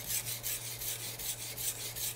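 A kitchen knife is drawn back and forth across a sharpening surface in steady, even strokes, a close rhythmic rasping hiss repeating about every quarter second.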